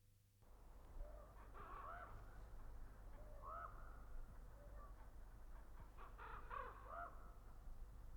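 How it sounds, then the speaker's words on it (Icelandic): A raven gives repeated hoarse croaks in a quiet valley, a few spaced calls from middle distance over a faint low steady hum, with a louder cluster near the end. "Það fátt sem truflar kyrrðina í dalnum annað en krunkið í hrafninum"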